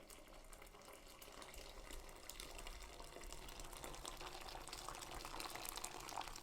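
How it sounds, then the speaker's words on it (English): Tap water runs steadily into a pasta pot for spaghetti, a continuous close splashing fill with no talk over it. "Okay, so in goes my water."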